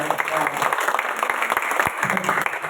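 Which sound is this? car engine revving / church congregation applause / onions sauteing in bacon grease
church congregation applause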